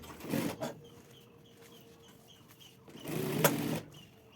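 A sewing machine stitches the edge of a ladies' non-woven handbag in two short close bursts, one brief at the start and a longer run near the end, with quieter handling between.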